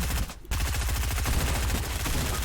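Rapid automatic gunfire from the video game Fortnite rattles on almost without a break, dense and loud, stopping only for a brief gap near the start.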